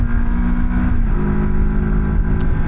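Moto Morini X-Cape 700 motorcycle accelerating up a mountain road, its mid-range engine droning steadily and close, with a pitch step near the middle as a gear is shifted.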